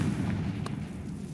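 A Confringo fire spell exploding in the video game Hogwarts Legacy, a short, muffled boom with a brief crackle inside a dense, rumbling game soundscape, heard alone without talk.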